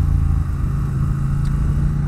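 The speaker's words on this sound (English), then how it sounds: "I am aboard the Thruxton RS, 1200cc parallel twin, big boy engine" A Triumph Thruxton RS with a 1200cc parallel-twin engine, heard from aboard the bike as a loud, steady, deep rumbling drone that holds evenly for about two seconds, with no talk.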